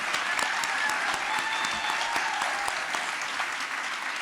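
A large audience claps steadily and densely at a state senate district debate in Oklahoma, a sustained, even wash of applause from start to finish with no break.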